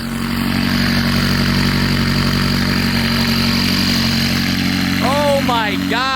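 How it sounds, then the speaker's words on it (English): Loud, steady engine drone from a McLaren 600LT, with turbo whistle over the top and rising whooshing spool sounds near the end, close by. "This car is literally so loud that I can't even talk to you guys over the sound of the turbos whistling."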